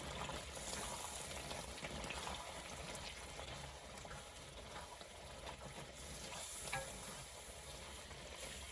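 Greek yogurt is stirred into a cooked-down tomato sauce for keto Indian chicken curry in a pan. A steady, soft sizzling and scraping noise runs throughout with no voices.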